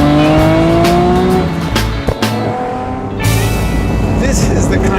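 Nissan GT-R driven hard through twisty corners on sticky tires, engine note rising and falling loudly up close, with brief tire noise between shifts.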